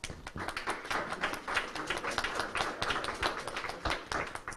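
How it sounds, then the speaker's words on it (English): Applause for state senate district 14 forum candidates, a small audience clapping in a dense, continuous patter of hand claps, moderately near and fairly quiet, with no talk over it. "let's just give all the candidates a round of applause"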